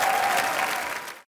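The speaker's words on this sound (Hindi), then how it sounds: "एक बार डैडी की पूरी कास्ट के लिए जोरदार तालियां" Studio audience on a comedy show breaks into loud, sustained applause for the cast, a dense wash of clapping that fades out at the end.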